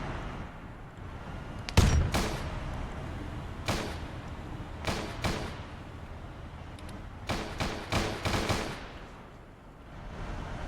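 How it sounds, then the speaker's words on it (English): Heavy tank cannon blasts in the video game Arma 3 boom repeatedly at irregular intervals, some in quick pairs and clusters, over a constant background rumble. "There she is, firing that cannon."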